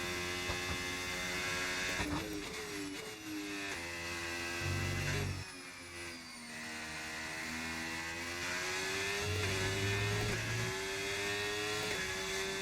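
An Audi Formula 1 car in a 2026-season racing game at Japan whines at high revs, its engine pitch climbing and dipping through shifts with a couple of brief low thumps, loud and continuous without talk.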